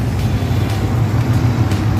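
Highway traffic along the Corniche in Doha, Qatar: a steady low rumble of many passing cars and trucks, close and fairly loud, continuous without clear gaps.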